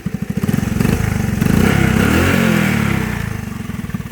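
A Honda ATC110 three-wheeler engine runs close by with a slightly smoky, mismatched muffler, its single-cylinder putter rising into a brief rev and settling back to a steady idle, with no one talking.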